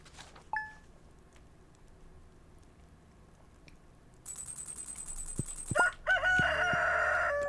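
Chickens and a rooster in a farming video game, starting with a brief cluck, then a steady game tone and a run of clucking and crowing calls near the end, loud and alone with no talk.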